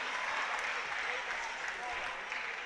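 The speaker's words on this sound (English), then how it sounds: "Quick applause from her, the way the team executed." Crowd applause fills an arena at a 2015 women's European basketball championship game between Montenegro and Ukraine, a steady wash of clapping throughout with a commentator talking over it.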